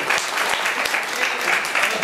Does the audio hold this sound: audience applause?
yes